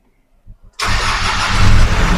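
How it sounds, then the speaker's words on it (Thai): A Nissan Navara Black Edition pickup engine cranks and catches with a sudden loud burst, then settles into a steady, close, loud idle, with a couple of faint clicks before the start. "ผมจะสตาร์ทสตาร์ทเครื่องให้ฟัง นะครับ ฟังเสียงเครื่องเลย"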